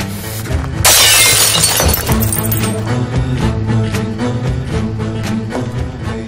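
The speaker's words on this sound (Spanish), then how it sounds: "¡Rompiste la ventana!" A glass window is smashed in a dramatic scene, a loud sudden shatter followed by a long tinkling cascade of falling shards that fades over several seconds.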